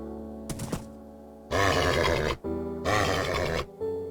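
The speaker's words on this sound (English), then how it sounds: "Wow, he's just a very cooperative horse." A horse in the Minecraft video game neighs in two long, loud whinnying bursts, each about a second long, after a short snort, with no talk over them.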